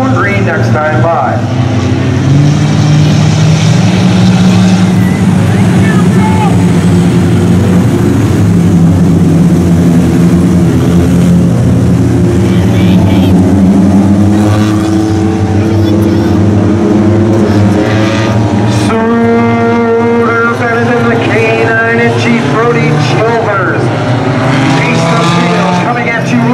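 Sprint cars in a bandit feature race at Jefferson roar loudly and continuously, with engine pitch rising and falling as cars pass, under a track announcer's voice.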